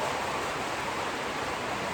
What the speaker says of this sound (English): sorry about the rain, it's getting loud.